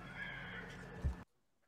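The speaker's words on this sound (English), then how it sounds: "you hear that horse? That was weird. I just heard like a horse noise." A horse whinnies somewhere away from the microphone, a faint, thin call that rises over a steady background hum and then breaks off abruptly into near silence.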